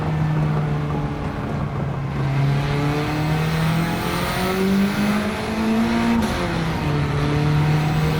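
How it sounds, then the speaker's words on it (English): A turbocharged 2-liter Honda Civic Type R engine in Gran Turismo 7 drones and rises through the revs with turbo flutter, steady and loud with no talking. "A lot of turbo flutter from this turbo 2-liter engine from Honda."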